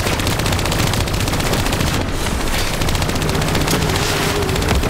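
A mounted turret in Call of Duty Black Ops 3 rattles off continuous rapid automatic fire, loud and dense from start to finish with no pauses, over a thick wash of combat noise.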